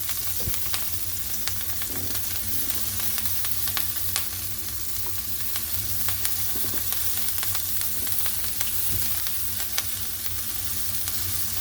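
Kale sizzles and fries steadily in a hot pan, a continuous crackling hiss with small pops and occasional stirring clicks, close and even throughout with no talking.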